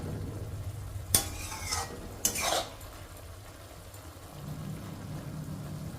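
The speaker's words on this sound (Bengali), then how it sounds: "ততক্ষণ আমি এইভাবে নাড়াচাড়া করে রান্না করতে থাকবো" Butter mushrooms being stirred in a cooking pan as their released water cooks off, a soft steady sizzle broken by two sharp scrapes of the spoon against the metal.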